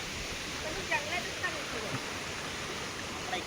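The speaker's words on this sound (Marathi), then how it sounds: "तिकडून देखील पाण्याचा प्रवाह चालू आहे आणि इकडून देखील पाणी येतोय" Steady rushing of flowing water fills the scene, a constant even wash with no voices and only slight swells.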